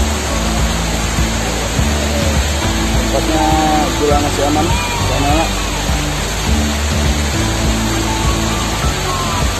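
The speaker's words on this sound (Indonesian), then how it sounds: "Ya, ini dia air terjun yang sebelah atas, air terjun Temburun." The upper fall of Temburun waterfall pours in a loud, steady roar of rushing water. People talk over it nearby.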